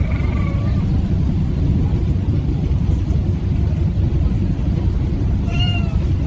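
A cat meows twice, one short cry at the start and another near the end, heard over a loud, continuous low rumble of traffic or engine noise that dominates throughout.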